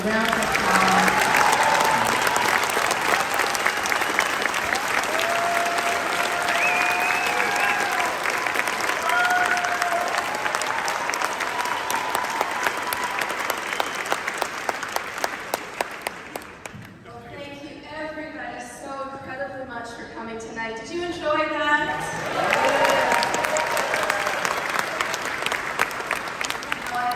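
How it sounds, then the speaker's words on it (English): An audience at a live conversation event breaks into sustained applause that builds and holds for most of the stretch, dips briefly while a voice and some music come through, then swells again. "Can we give them a round of applause?"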